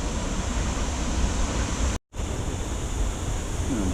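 Roaring waterfall beside a stream, a dense, steady rush of falling water filling the whole clip at close range, briefly cut out for a moment midway.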